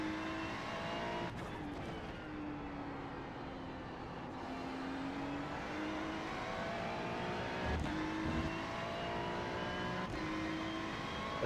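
Ferrari 296 GT3 race car in iRacing at the Nürburgring GP circuit: a sustained engine drone rising and falling through gear changes, with brief shifts and tire noise, steady and loud throughout.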